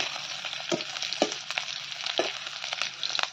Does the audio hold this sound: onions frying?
yes